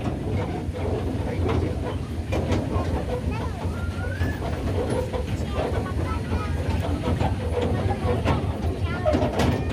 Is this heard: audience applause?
no